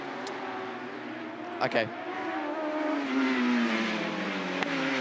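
Autograss race cars roar past the commentary point, engines droning and climbing in pitch with a loud pass sweeping through, while a voice briefly speaks over the racket.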